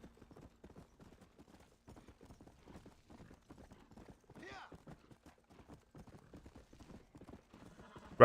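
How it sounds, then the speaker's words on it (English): In Red Dead Redemption, a horse walks at a slow, steady pace, its hooves clip-clopping in an even rhythm. A short whinny breaks in midway, and the hoofbeats are quiet and close. "This horse goes so slow."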